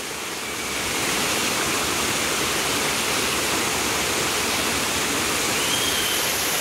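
Water pours steadily inside Kuntroo Cave waterfall, a dense, unbroken rushing roar that swells in the first second and then holds loud and close.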